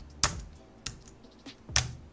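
A few separate keystrokes on a computer keyboard, close and quiet, with three distinct sharp taps spaced unevenly and softer clicks between them; no voices.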